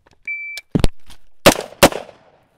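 Sharp gunshots on an outdoor shooting range, a few loud separate cracks with short echoing tails and a brief beep before them, no talk.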